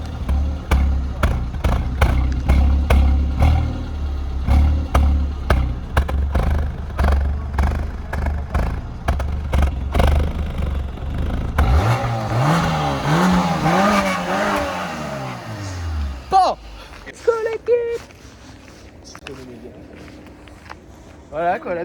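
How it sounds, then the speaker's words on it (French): A Renault Mégane's exhaust barks through a series of sharp, loud revs close by, then the engine winds up and falls back to quiet, with someone speaking French near the car. "Maintenant je vais vous faire entendre le bruit du pot."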